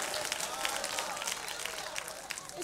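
Church congregation clapping hands during an Ohio prayer day service, a steady wash of many hands clapping at once, moderately loud and continuous, with voices mixed into the crowd noise.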